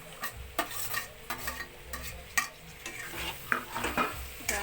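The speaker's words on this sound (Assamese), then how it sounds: "এতিয়া কাটি থোৱা বিলাহীখিনি দিওঁ।" Chopped tomatoes frying in a pork curry, with soft sizzling under repeated scraping and stirring strokes of a spoon against the pot, close and fairly quiet.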